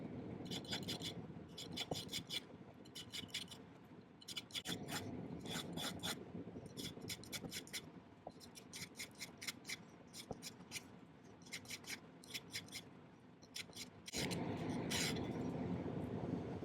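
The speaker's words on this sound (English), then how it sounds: "it's much easier to hold on to something and file it to a point when it's longer like this" A hand file rasps across a small metal pendant piece being shaped to a point, in repeated rhythmic back-and-forth strokes with brief pauses, close and fairly quiet, without talk.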